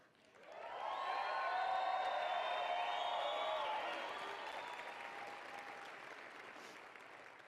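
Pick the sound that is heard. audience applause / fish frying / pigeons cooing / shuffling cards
audience applause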